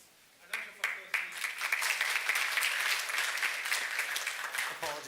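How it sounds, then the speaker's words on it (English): An audience bursts into applause in a hall after a speaker is introduced, the clapping starting after a quiet moment and swelling into a steady, dense ovation that holds for several seconds. "A round of applause,"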